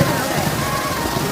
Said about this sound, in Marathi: आलं बघा इकडं पाऊस